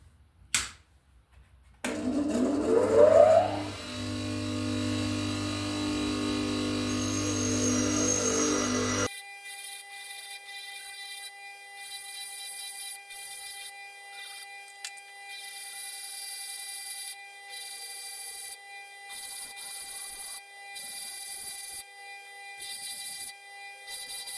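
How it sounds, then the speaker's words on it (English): Bench grinder with a freshly dressed wheel taking down a worn end mill, a loud harsh grinding burst for about seven seconds, then the motor's steady whine alone as the wheel keeps spinning. "We have a freshly dressed wheel on the bench grinder, and I'm just going to take the worst off of this end mill now."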